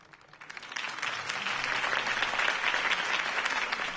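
Dense applause from a large crowd in the video game Telltale Batman swells up quickly and holds steady, a continuous wash of clapping with no voices on top.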